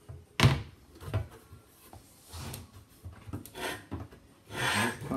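A Miele W400 washing machine door being fitted into place: a sharp knock, then scraping, rubbing and bumping of the door against the machine body, ending in a longer grinding rub.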